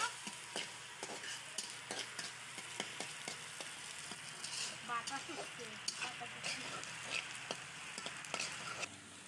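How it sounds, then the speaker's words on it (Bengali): Chili, onion and garlic fry in a pan for a spicy sea-fish curry, making a quiet, continuous sizzle broken by frequent sharp clicks and taps of stirring. "মরিচ পেঁয়াজ রসুনগুলো খুব ভালো করে আগে ভেজে নেব"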